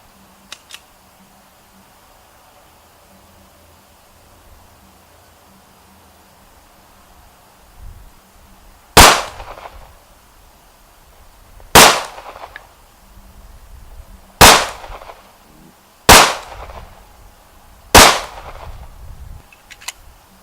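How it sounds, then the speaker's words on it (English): Five sharp, loud gunshots from a Jimenez Arms J-9 pistol fired at a target, spaced a few seconds apart after a quiet stretch, each crack trailing off with a brief echo. "5 rounds each, the Jimenez Arms J-9 for the head."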